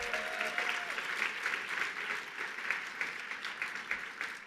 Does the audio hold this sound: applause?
yes